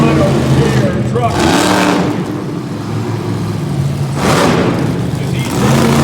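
A monster truck engine roars at an arena show in Kelowna, BC, loud and rough, with two surging revs standing out while an announcer talks over it.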